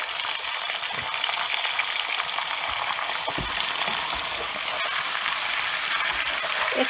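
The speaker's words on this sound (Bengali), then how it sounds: "আমি এই খাসির সাথে বাকি মশলাগুলো কষাবো।" Goat meat with spices sears in a pan, giving off a constant, dense sizzle and crackle with occasional soft stirring knocks, and no voices.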